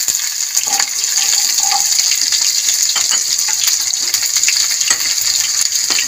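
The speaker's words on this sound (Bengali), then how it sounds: "অল্প একটু নুন দিয়ে দেবো পেঁয়াজটাতে, যাতে তাড়াতাড়ি ভাজা হয়ে যায়" Sliced onions with black cumin seeds and a little salt frying in oil in a pan for Bengali bele fish curry, a steady loud crackling sizzle with occasional clinks of stirring, no talk.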